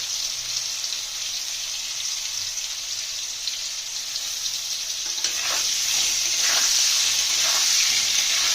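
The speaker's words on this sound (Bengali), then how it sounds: "আলুগুলো ভাজা ভাজা করে নিয়েছি, তুলে নেবো।" Potato pieces fry in hot oil with a loud, continuous sizzle and crackle that swells in the latter half, with occasional stirring and no talk.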